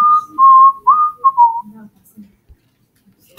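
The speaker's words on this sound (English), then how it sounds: "Don't mock my whistling." Someone whistles a short, wavering tune for about two seconds, clear and close, then it drops to near silence with a few faint room noises.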